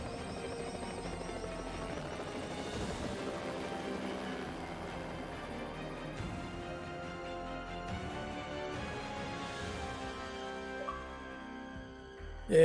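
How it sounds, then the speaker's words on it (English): A helicopter in the stealth video game Hitman gives off a steady rotor and engine drone, continuous and moderately loud with a tonal hum, ending in a sudden louder burst. "Got you guys a new helicopter."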